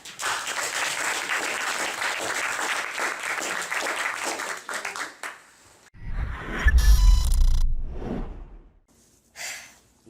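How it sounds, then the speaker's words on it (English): An audience claps steadily for several seconds, then the applause fades into a few breathy sounds and short noises. "Let's hear it for Archana."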